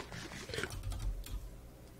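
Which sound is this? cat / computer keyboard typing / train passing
computer keyboard typing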